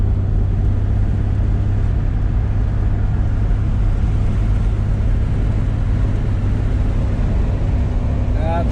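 A 1966 Jaguar Series I E-Type is driven, its engine giving a steady, loud, low drone with road and wind noise throughout and no pause.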